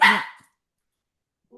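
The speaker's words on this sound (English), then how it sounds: "Sorry, that's the dog." A single short dog bark goes off loud and close indoors, then fades quickly into silence, with a faint brief sound at the very end.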